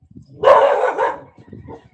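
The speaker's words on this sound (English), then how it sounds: "My dogs are here." Several dogs bark outdoors, giving one loud, close burst of overlapping barks that fades into quieter trailing yelps.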